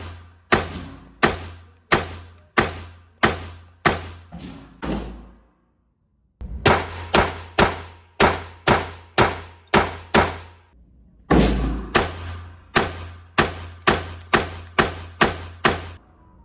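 A Beretta 21A Bobcat .22LR pistol fires bulk-pack ammunition at a range. Sharp, close shots come in three rapid strings of about eight to ten, with brief pauses between them and no talking.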